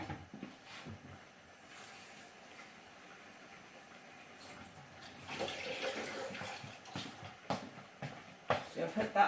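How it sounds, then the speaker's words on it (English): Water runs into a cooking pan for pasta, a soft splashing pour that grows louder and more turbulent partway through, with faint clinks and shuffles from a home kitchen. "I don't have quite enough hot water, so I'm going to have to add a little bit of cold."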